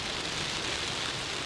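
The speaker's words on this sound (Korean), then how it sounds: "Look at the way how it rains." Steady rain falling in Oman, a dense even hiss of drops with no breaks, loud and close for a brief moment.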